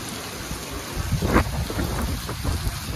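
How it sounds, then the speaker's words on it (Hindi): Heavy downpour of the season's first big rain, a dense steady hiss of falling water with a brief louder swell partway through and low rumbling underneath, no voices. "बहुत बढ़िया बरसात हो रही है।"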